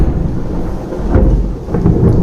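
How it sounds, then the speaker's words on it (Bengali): Thunder rumbles through a thunderstorm, a continuous low roll with a couple of swelling cracks partway through, loud and close, with no voices. "খুব জোর বিদ্যুৎ চমকাচ্ছে এবং মেঘ হুড়মুড় করছে"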